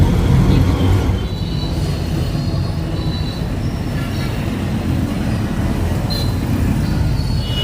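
Trains and rail traffic rumble near Varanasi Cantt railway station, a steady mid-distance roar with faint metallic squeals of wheels, continuous throughout without talk.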